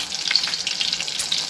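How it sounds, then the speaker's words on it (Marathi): Steady close-up sizzling of food frying in oil in a small pot, a continuous crackling hiss with no talk. "बघा असे फ्राय होत आहे ते."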